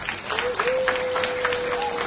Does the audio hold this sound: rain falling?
no